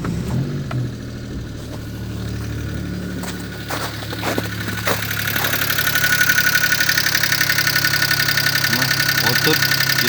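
A Daewoo Matiz engine runs at idle nearby with a steady mechanical hum, preceded by a few clicks and knocks before the rattly idle settles in and continues to the end.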